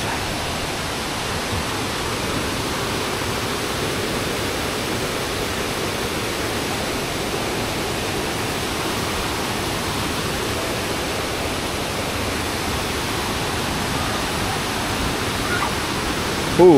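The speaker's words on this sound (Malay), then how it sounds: "Air terjun dia cantik." A waterfall roars as a steady, dense rush of water that stays constant and close throughout, with no break in the sound.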